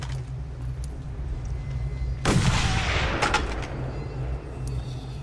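Several gunshots burst out in the Mad Max video game, with a sharp loud blast followed by a scattered, echoing volley of shots under a steady low rumble of vehicle or ambient noise.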